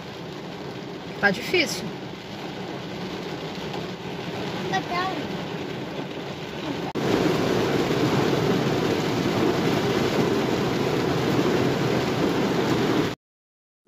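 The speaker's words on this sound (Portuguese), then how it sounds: "A chuva tá apertando mais ainda." Heavy rain drums on a car from the inside as a steady hiss that grows louder and denser halfway through, while someone says a few words early on.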